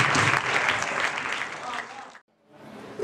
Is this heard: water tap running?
no